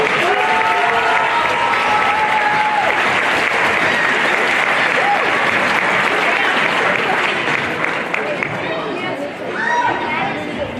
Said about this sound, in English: How about a round of applause?